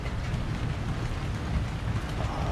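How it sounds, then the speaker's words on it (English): Steady rain pouring down outdoors on a July evening, a dense, continuous wash of patter with a low rumble beneath, constant in level throughout with no voices. "It's raining today."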